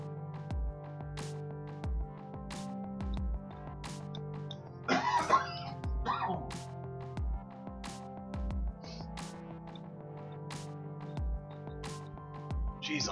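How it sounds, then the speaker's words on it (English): Several short, dry coughs from a dry throat, scattered across a quiet stretch and fairly faint, heard alone without talk. "I don't know what's up with the coughing today"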